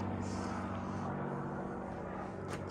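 A faint airplane passes overhead above a quiet garden, a low, steady distant drone that fills the background with no voices.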